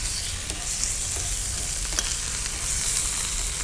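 Onions with ginger garlic paste fry in a pan, a loud, constant crackling sizzle with a few faint stirring scrapes and no talk.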